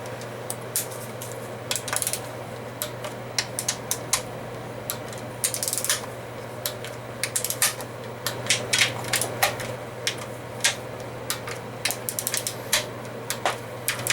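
Wrench tightening the bolts on an L80E transmission pan: a run of sharp, irregular metallic clicks and ratcheting ticks, close by, over a steady low hum.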